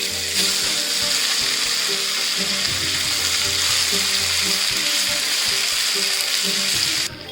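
Basmati rice and vegetables stir-frying on a high flame for veg fried rice, a steady loud sizzle with stirring scrapes running continuously before cutting off abruptly at the end.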